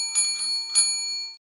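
A bright, tinny bell sound effect like a bicycle bell, two or three quick ringing strikes that shimmer and decay before cutting off abruptly, clean and close with no voice.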